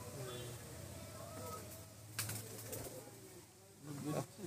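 A male pigeon coos softly in a loft in a few low, rolling phrases, faint under steady background noise and handling sounds.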